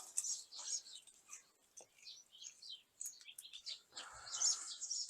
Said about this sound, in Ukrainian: Це хороше місце, де пташки селяться там, кажуть.